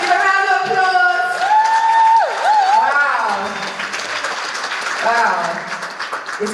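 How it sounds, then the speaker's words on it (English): Applause from a conference audience for a prize winner, clapping mixed with crowd noise and voices, with music or tonal sounds layered over the start. "Give a round of applause."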